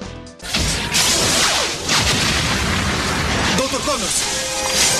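A loud explosion sound effect from the 1994 Spider-Man cartoon erupts after a brief quiet moment, followed by a sustained roaring rumble and crackling debris that gradually settles.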